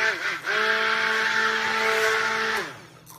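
A blender mixing soap batter for lily of the valley and clove soap gives a steady high motor whine that holds for a few seconds and then winds down.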